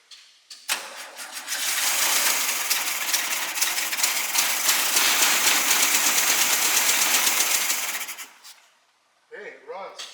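A SpraCoupe aircraft engine, fitted to a 1961 VW bus, cranks and catches, then runs loud and steady for about seven seconds before cutting off, followed by brief voices.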